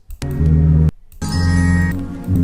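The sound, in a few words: sampled chops slowed down, lower pitch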